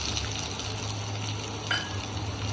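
Onion and tomato cook in a pan over a gas flame, giving a soft, steady sizzle with a faint bubbling hiss close by and no talk.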